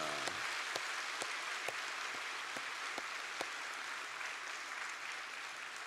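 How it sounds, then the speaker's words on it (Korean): A church congregation at an early-morning Holy Week service applauds a children's choir, a soft, distant wash of clapping with a few sharper individual claps standing out. "주리 어린아이들을 위해서 우리 한번 박수 치겠습니다"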